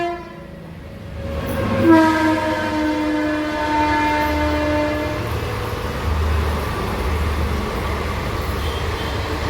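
A train rumbles past and sounds its horn in a long, loud, steady blast that fades while the rolling rail noise continues underneath.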